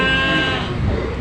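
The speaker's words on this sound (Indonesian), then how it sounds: "Nah, ini jadi domba-dombanya." Sheep bleating at a farm pen where the flock is kept and checked for diarrhea and worm illness, a steady close chorus of overlapping calls over a constant murmur of farm noise.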